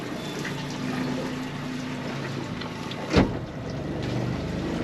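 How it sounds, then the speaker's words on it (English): A 2015 Smokercraft Phantom 182 boat with a Yamaha 90 outboard motor pulls away from a dock, a steady low motor drone mixed with washing water and one brief louder splash or thump. "Okay, pulling away from the dock here."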